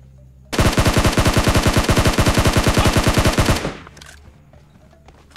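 Automatic gunfire from a PUBG Mobile match: one loud, rapid, unbroken burst of shots lasting about three seconds, then it cuts off and a quieter tail fades out.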